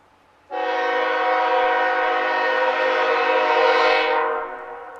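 CSX SD50-2 diesel locomotives 998 and 8541, leading the Q130 freight train, sound one long, loud, close horn blast lasting about four seconds before it tapers off, with a faint rumble underneath.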